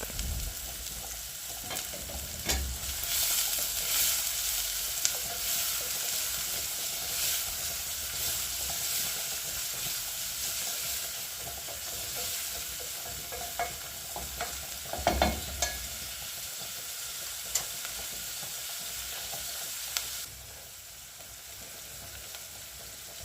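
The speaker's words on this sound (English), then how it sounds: "We're going to start by browning our onions" Onions brown in a frying pan with a continuous, even sizzle and hiss, with occasional stirring scrapes and utensil taps, easing slightly toward the end.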